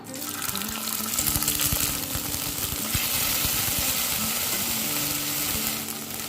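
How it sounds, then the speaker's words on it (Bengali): A spoonful of ginger paste hits hot oil already seasoned with dried red chillies and cumin seeds, giving a loud, continuous crackling sizzle with some stirring and running-water-like hiss, steady for several seconds with no talking. "এরপর তেলে দিয়ে দেব 1 চামচ আদা বাটা"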